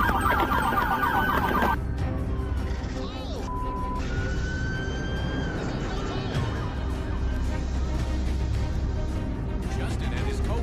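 A police siren wails, rising and falling continuously, loud and close, during a chase involving a large RV, with engine rumble and traffic noise beneath it.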